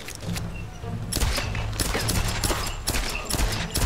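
Gunfire in Tomb Raider comes as loud, close bursts of rapid shots, starting after a quieter opening second and then repeating in several clustered volleys through to the end.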